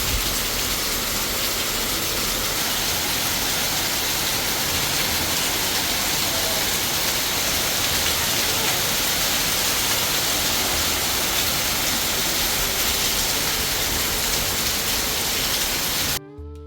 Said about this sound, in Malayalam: പുറത്ത് നല്ല പെരും മഴയാണ് കേട്ടോ.